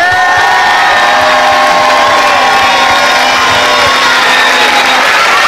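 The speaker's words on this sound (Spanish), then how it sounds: "Esta es la ovación que se lleva de todos." A crowd at a homage event in Leganés gives an ovation for footballer Dani Carvajal, sustained loud cheering with whoops and shouts, including children's voices, carrying on without a break.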